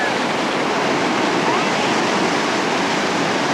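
Whitewater rapids on the Ocoee River crash as rafts slam through the waves, making a loud, unbroken roaring wash that fills the whole stretch.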